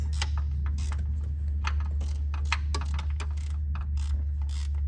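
A ratchet wrench torquing bolts on a 3.6 Pentastar engine during a lifter and rocker replacement, a loud, close run of rapid ratchet clicks in repeated bursts over a low steady hum.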